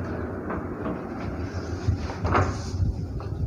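A hotel washroom door at Country Inn & Suites by Radisson in Sahibabad opens with a soft thud and a brief sliding scrape, set against a low, steady room hum.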